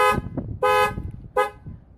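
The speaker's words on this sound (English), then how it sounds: "When I disconnect these two leads right here, the alarm's going to go off." The factory alarm on a 2011 Ford F250 sounds its horn in three loud, close honks, a short one followed by a longer blast and another short one, with no talking.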